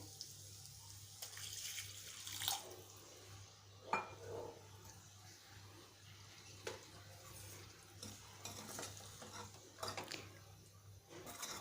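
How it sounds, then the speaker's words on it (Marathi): Water is poured into a pan of frying spice masala with splashing and a few clinks, while a steady low hum runs underneath. "मसाले परतून झाल्यानंतर यात पाणी घालायचे"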